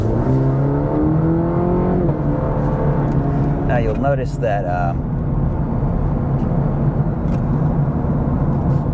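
A 2023 Cadillac CT4-V sports sedan with a 325-horsepower engine accelerating, a loud, steady rising drone heard from inside the cabin, with someone talking over it.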